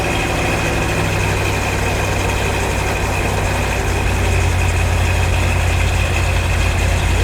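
A big-block car engine at a car auction idles steadily nearby, a deep continuous low rumble with a faint lopey throb and no voices.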